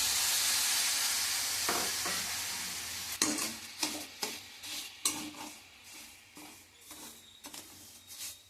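Sugar syrup for coconut burfi being stirred in a pan, a soft sizzle fading at first, then a run of repeated scraping strokes that come close and fairly loud, with no voices.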